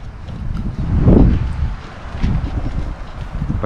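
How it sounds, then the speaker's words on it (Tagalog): Strong wind buffets the microphone on a mountain top at a motorcycle campsite, a steady low roar that swells to a loud gust in the middle and another shortly after. "Lakas ng hangin guys, ang sarap."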